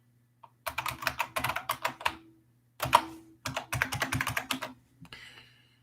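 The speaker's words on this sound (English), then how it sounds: "Like my clicky keyboard?" Fingers type in quick bursts on a clicky computer keyboard, a close crisp run of keystrokes with one short pause midway, then a faint trailing rustle.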